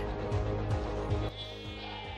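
Minecraft goats bleat in a steady run of nasal, wavering cries, loud and close, with several overlapping calls and no talking.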